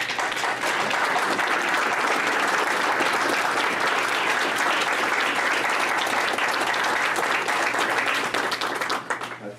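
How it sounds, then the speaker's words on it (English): An audience at a county board of supervisors meeting applauds the local sheriff, a steady, close, full round of clapping that holds evenly for nearly ten seconds before tapering at the end. "The board join me in an applause for our local."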